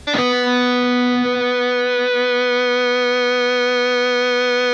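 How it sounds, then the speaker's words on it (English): An electric guitar through an effects pedal in feedback mode holds one distorted chord steady and loud for several seconds, with a bright, slightly wavering tail. "You engage the feedback mode by playing something and then holding the pedal down"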